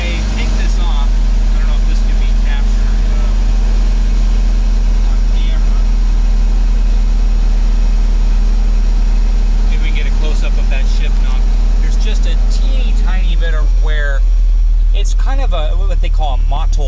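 A 2013 Mitsubishi EVO GSR idles with a steady, loud low rumble close by for most of the stretch, then the engine note shifts near the end as a person starts talking over it.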